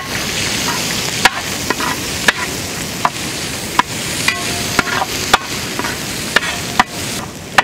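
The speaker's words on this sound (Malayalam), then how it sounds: "കുറച്ച് പട്ട ക്രാമ്പ് ഏലക്ക ഇട്ട് കൊടുക്കാം കുറച്ച് കറിവേപ്പില കുറച്ച് ചെറിയുള്ളി ഇട്ട്" Cinnamon, cloves, cardamom, curry leaves and shallots fry in hot oil for a black chicken curry, a loud continuous sizzle broken by regular sharp clicks of a spoon stirring against the pan.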